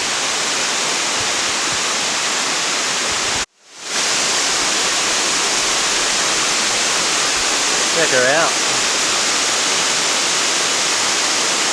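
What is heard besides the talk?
waterfall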